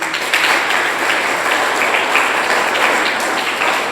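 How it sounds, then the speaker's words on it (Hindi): Students at a KLM International School seminar in Pathankot clap loudly and continuously for their teachers, a thick, even wash of applause with no break. "अपने प्रिंसिपल मैम के लिए भी बहुत ज़ोरदार तालियां बजाएं"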